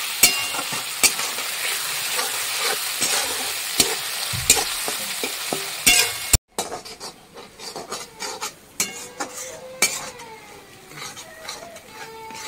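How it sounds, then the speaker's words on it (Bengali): Ginger, garlic and ground spices are stirred and fried in oil in a pan, making a steady close scraping and sizzling, then briefly cutting off before quieter, sparser stirring strokes resume. "আর এটা সব একসঙ্গে মশলাগুলো দিয়ে দেবো। মশলার তেলগুলো দিয়ে ভালো করে কষিয়ে নেব।"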